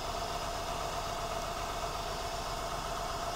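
A car engine idles steadily at close range while being checked for a cylinder misfire, giving a continuous rough mechanical hum with no talk.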